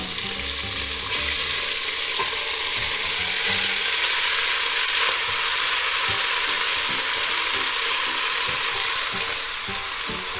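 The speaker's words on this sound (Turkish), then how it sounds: "Kızgın olan iç yağımın içerisine kavurmalık etlerimi atacağım." Beef cubes for kavurma drop into hot rendered beef suet, setting off a loud, steady, close hiss of frying that carries on unbroken with no talking.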